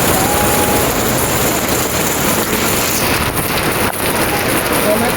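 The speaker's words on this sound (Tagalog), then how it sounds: "Ulan na guys. Buti na lang may payong." Steady rain patters on an umbrella outdoors at a roadside vendor stall, a dense continuous hiss lasting throughout, with faint voices briefly audible under it.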